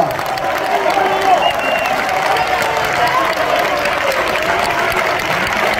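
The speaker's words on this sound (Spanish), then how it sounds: "Fuerte aplauso para la orquesta de cámara de Florida." A concert audience applauds the Florida chamber orchestra, a dense, steady wash of clapping from a large crowd with a voice speaking faintly underneath.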